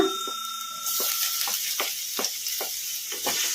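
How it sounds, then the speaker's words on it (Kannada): Finely chopped garlic sizzles in hot oil in a pan over a medium flame. A quieter start with a faint tone gives way to a steady, close fry, broken by regular soft stirring knocks. "ಬೆಳ್ಳುಳ್ಳಿ ಹಸಿ ವಾಸನೆ ಹೋಗೋವರೆಗೂ ಫ್ರೈ ಮಾಡ್ಕೊಂಬಿಡೋಣ ಮೀಡಿಯಮ್ ಫ್ಲೇಮಲ್ಲಿ"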